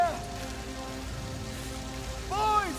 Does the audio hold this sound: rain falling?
yes